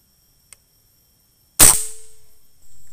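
One sharp air rifle shot, fired at close range while zeroing a scope, cracks loudly in a quiet setting and decays over about a second, with a faint click just before it and a soft hum afterward.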